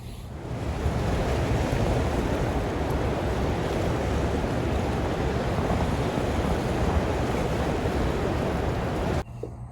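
Rough water and wind on a boat during skipjack fishing, a loud continuous rushing wash of waves with wind buffeting the microphone, steady throughout before cutting off near the end.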